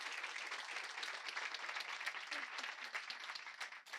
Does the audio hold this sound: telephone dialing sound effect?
no